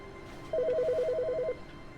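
A telephone in The Stanley Parable rings once with a trilling electronic warble lasting about a second, clear and alone over a faint background hum.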